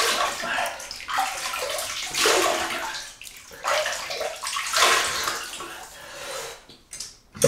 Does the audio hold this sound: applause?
no